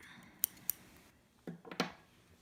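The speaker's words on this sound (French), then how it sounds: "Puis une paire de ciseaux." Scissors snip yarn during a knitting heel tutorial: two sharp, quick clicks, then a short crisp run of cutting sounds near the end, close and alone.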